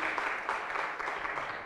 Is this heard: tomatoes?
no